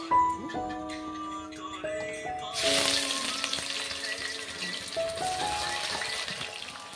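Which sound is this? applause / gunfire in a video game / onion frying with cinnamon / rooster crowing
onion frying with cinnamon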